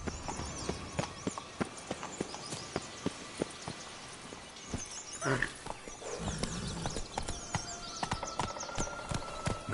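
Geralt's horse Roach galloping in The Witcher 3, with steady, rhythmic hoofbeats close by that slow near the end, and a voice speaking to the horse partway through.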